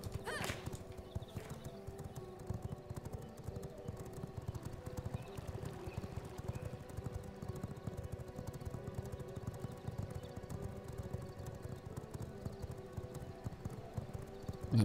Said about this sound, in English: Now that we've all got horses, we may as well gallop then.